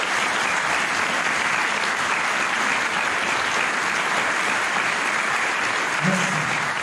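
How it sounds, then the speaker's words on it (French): Sustained applause from a large indoor crowd at a New Year's greetings ceremony, dense and even, holding steady from start to finish. "Je souhaite qu'on les remercie et je souhaite qu'on les applaudisse."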